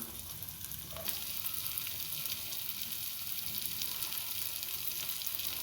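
An omelette fries in a pan over a low flame, giving a constant close crackling sizzle throughout, with one faint clink near the start.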